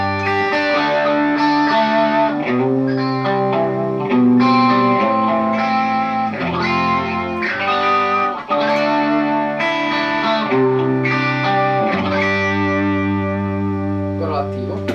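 A Red Special electric guitar at low volume, running through a treble booster into an amplifier with no phaser, plays a lightly driven melodic passage of sustained notes and chords for fifteen seconds.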